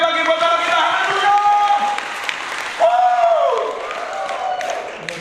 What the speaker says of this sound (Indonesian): mari tepuk tangan sekali lagi buat kita